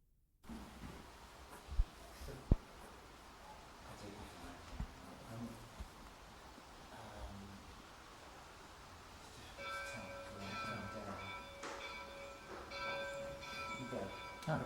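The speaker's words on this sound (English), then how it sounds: "the bells are ringing now" Church bells start ringing about two-thirds of the way in, a steady cluster of sustained metallic tones over a noisy, rumbling background with a few sharp knocks earlier.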